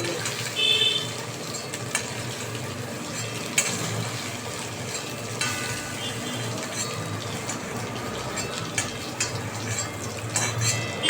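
Paneer cubes frying lightly in a pan at home, a steady low sizzle with scattered clinks and scrapes of a utensil against the pan, fairly close and continuous with no talking.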